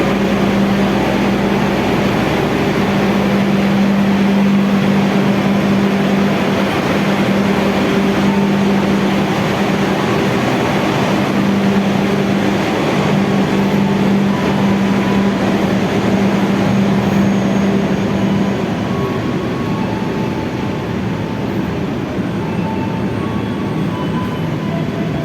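Inside a Pasundan economy new-generation train running from Jogja toward Kutoarjo, a steady loud rolling rumble with a sustained low hum continues throughout, no voices heard.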